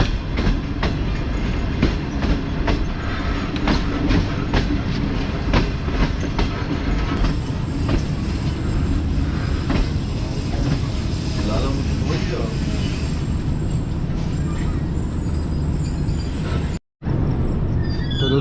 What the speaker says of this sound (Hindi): सामने से भी एक ट्रेन आ रही है